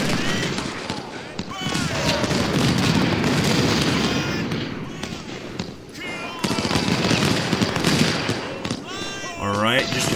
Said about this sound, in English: Alright, just a few gunshots. This is almost like a fight between cowboys. Firing a few shots